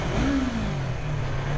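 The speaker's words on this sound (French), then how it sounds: "On va voir un peu l'échappement." Yamaha MT-03 2020 motorcycle with stock exhaust, engine held at a steady rev that rises slightly, then settles into a loud, continuous close-up drone.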